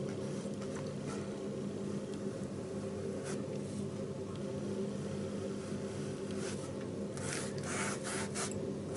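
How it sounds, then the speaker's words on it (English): A number 4 bright bristle brush paints acrylic onto canvas while filling in a red scarf on a snowman picture, making soft, close, repeated rubbing and scratchy strokes with brief brighter swishes and no talking. "now with my bright bristle brush, that was the number 4 bright bristle. I'm going to paint in this red scarf."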